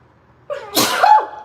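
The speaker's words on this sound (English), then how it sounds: "Oh, why am I about to sneeze, huh?" A single loud sneeze, a short sharp inhale building into a forceful burst, close to the microphone with no talk around it.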